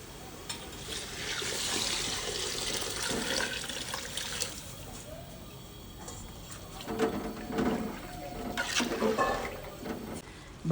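Water splashes and pours into a pot of Hyderabadi bagara rice, a steady wet rush with louder gushing bursts toward the end, amid faint kitchen clatter.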